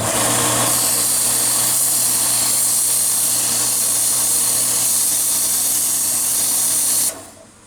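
A power tool sands the edge of a blade in a workshop, giving a loud, steady abrasive whir and hiss that runs without a break before cutting off abruptly near the end.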